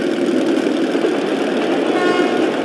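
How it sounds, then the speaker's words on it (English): A train approaching in Metro Last Light Redux: a steady, loud rumble rolls on continuously, with a low mechanical drone and faint higher tones rising toward the end. "That's the train!"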